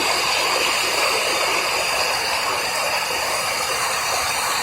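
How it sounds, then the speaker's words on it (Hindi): Rushing river water at the Pandav waterfall in Panna district, Madhya Pradesh, murmurs steadily in a broad, continuous wash of sound, unbroken and fairly loud, with no voices. "ये जो कलकल ध्वनि आपको सुनाई दे रही है"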